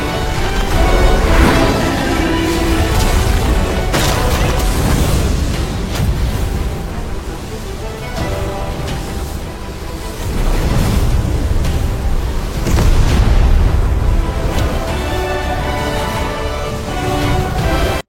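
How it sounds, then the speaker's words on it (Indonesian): An animated explosion as a fist collides with a fire-dragon meteor: a sustained, loud, roaring blast with rumbling, surging swells and crackling debris that never drops out across the whole stretch. "Ledakan dahsyat tercipta ketika tinju Shoyan bertubrukan dengan meteor naga api"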